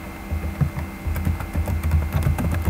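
Text is typed on a computer keyboard, a quick run of close, light key clicks over a low steady hum.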